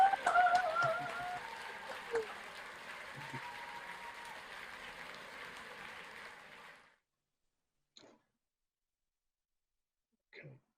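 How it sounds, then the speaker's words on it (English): Online graduation audience applauding over unmuted microphones, scattered mixed clapping and noise that fades out after several seconds into silence, with a couple of faint clicks afterward. "applause."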